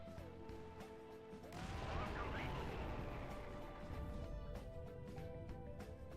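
A bridge is blown up in a video game: a sudden loud, sustained crash and rumbling blast lasting several seconds, layered over steady game music with tonal lines.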